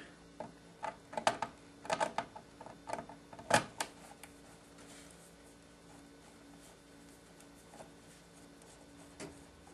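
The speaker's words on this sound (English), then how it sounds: "I'll get my trusty Phillips screwdriver and unscrew all of this" A Phillips screwdriver unscrews the mount of a CPU cooler inside a PC, giving a cluster of close, faint clicks and metallic ticks that thin out into near silence.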